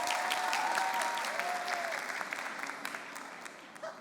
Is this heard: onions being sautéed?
no